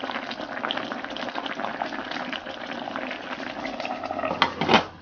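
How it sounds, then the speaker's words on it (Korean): Rice-rinsing water simmers in a pot for braised mackerel with kimchi, giving a close, steady bubbling and hiss, followed by a brief louder clatter near the end. "보글보글 잘 끓고 있는데요."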